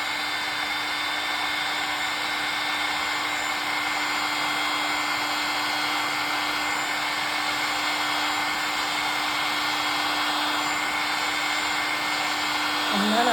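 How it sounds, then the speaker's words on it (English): A heat gun or hair dryer blows hot air steadily onto resin on wine glasses to push it into a wave, giving a continuous, even whir that lasts throughout. "I'm going to start blowing towards the bottom from the top down to create the wave"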